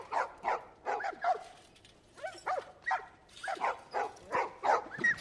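Dogs in The Last of Us Part 2 bark repeatedly in quick bursts, a series of yips and woofs at a moderate distance with short whimpers mixed in, fairly faint overall.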